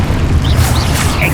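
Expulso blasting spell going off in the Hogwarts Legacy video game, a steady deep booming rumble with brief whooshing bursts, loud and close throughout a short burst of magical combat.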